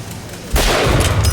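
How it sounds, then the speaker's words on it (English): Rockets firing and exploding in the video game Bioshock Infinite, a quiet stretch giving way to a sudden loud blast that rumbles on with further crackling impacts. "Rockets, watch out!"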